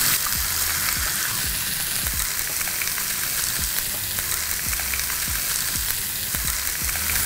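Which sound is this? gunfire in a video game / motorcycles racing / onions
onions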